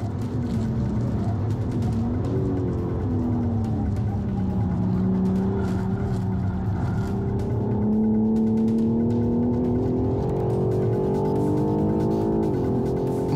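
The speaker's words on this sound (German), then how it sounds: "Es folgt die nächste Highspeed-Gerade, das Revier des M4." A BMW M4 G82 tuned by AC Schnitzer on a fast track lap, its engine droning loud and steady from inside the car, pitch rising gradually as it accelerates down a high-speed straight, with a shift near the end.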